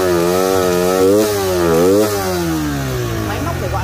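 A used motorcycle engine idles and revs at a motorbike shop, a loud buzzy note that rises and falls through two quick revs before settling back to a steady idle.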